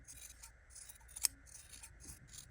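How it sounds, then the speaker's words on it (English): Scissors trimming a sewn fabric seam allowance down to about a quarter inch on a reusable grocery bag flap, a series of quiet, close snips with one sharper cut in the middle. "we're going to trim the seam allowance down to about 1/4 inch."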